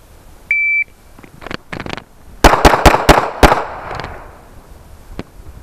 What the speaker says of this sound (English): You're gonna do a pivot and a turn, and you're gonna fire 5 rounds.